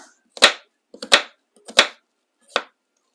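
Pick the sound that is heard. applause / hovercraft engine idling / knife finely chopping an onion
knife finely chopping an onion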